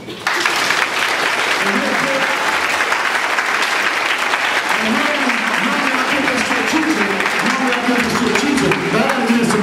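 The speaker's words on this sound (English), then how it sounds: "I want you to clap for all the teachers." A large audience at an anti-violence event bursts into loud, sustained applause honoring teachers, with scattered voices and cheers running through the steady clapping for nearly ten seconds.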